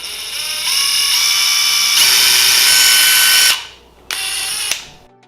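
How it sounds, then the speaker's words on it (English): A power drill whines at high speed for several seconds while drilling into cinnamon sticks, pauses briefly, then whirs again in a shorter burst. "I'm gonna drill holes into 18 cinnamon sticks"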